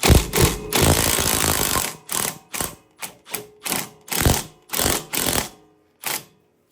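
A bearing splitter pulls a pulley off the shaft of an Ariens snowblower during an engine swap: a sustained metallic grinding gives way to a series of short, rhythmic ratcheting clicks as the tool is cranked, close by and with no talking.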